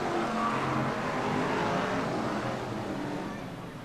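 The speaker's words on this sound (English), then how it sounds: "Cars then flying around the circuit." BriSCA F1 stock cars race around a floodlit oval at Skegness in 1994, a constant distant roar of engines rising and falling as the pack laps, with no talk.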